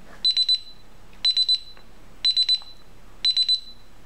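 A DSC security alarm panel sounds its exit-delay warning as a triple beep, repeated four times at an even one-second interval, clear and close in a quiet room.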